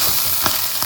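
Spices, including turmeric, black pepper and ground red pepper, sizzle steadily in a hot pan while being stirred, with a few soft scraping clicks over a continuous frying hiss.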